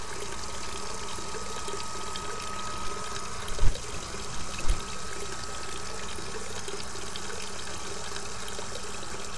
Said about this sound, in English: So please just fill up my drink with some water.